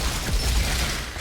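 Gunfire from a double gun in the sci-fi shooter Outriders, firing like an assault rifle: a brief, dense rattle of shots within steady, noisy combat ambience.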